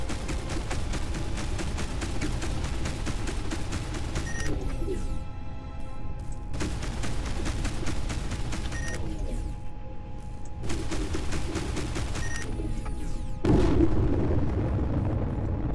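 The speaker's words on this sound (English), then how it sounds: "that looks like one hell of a huge barrage" In the space combat game Between the Stars, a huge barrage of weapons fire erupts from big ships. Repeated waves of blasts and booms come in rhythmic bursts with short gaps between them, and a heavier impact lands near the end.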